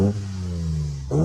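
A Datsun 240Z engine revving up close, a deep harmonic drone that sags as the revs fall, then swells back up in a quick blip at the end.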